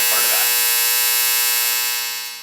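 A clothes dryer buzzer sounds one loud, steady electric drone for about two seconds, then fades out.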